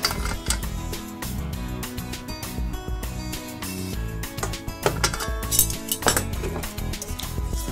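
Metal camping cookware clinks and rattles repeatedly, pots and a pan gripper knocking together in irregular bursts close to the listener.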